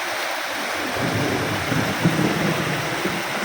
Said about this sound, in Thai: อันนี้ลำห้วยไหล น้ำไหลแรงมากฝนตก